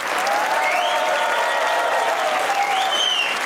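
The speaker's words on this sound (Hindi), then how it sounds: "तो बजाइए तालियां" Studio audience applause on a comedy talk show, dense, loud, continuous clapping throughout with a few whistle-like tones and crowd noise riding on top.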